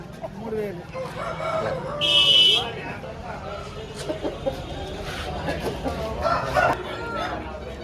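Roosters crow among clucking poultry in a busy rooster market in Gokavaram, East Godavari, a sharp crow rising midway, with people talking nearby throughout.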